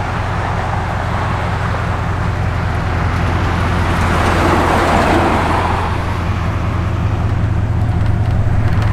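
A 1967 Chevrolet Corvette mid-year with side exhaust rumbles steadily nearby, a deep continuous engine drone with a gradual swell in the middle, loud and unbroken, with no voices.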